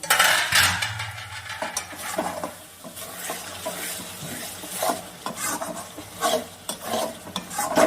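Shidol shutki dried fish chutney is stir-fried in oil in a pan, with a utensil repeatedly scraping and clattering over a continuous sizzle in irregular strokes.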